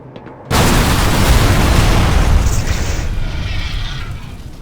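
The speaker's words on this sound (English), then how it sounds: "Is that a monster sound at the end of that explosion?" A sudden massive explosion in the Black Mesa video game bursts in after a moment of quiet, then a dense, loud roaring rumble sustains and slowly tapers over several seconds.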